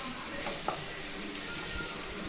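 Potato kurma being stirred in a pan after chilli powder goes in, a steady close sizzle and frying hiss with a few soft scraping stirs mixed in.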